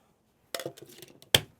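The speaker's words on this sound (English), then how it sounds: "Ice our tin" Ice dropped into a metal cocktail shaker tin for a Loch Lomond with Drambuie, Cointreau and lemon juice: a short clattering tumble of cubes, then a pause and one sharp, bright clink, close and alone.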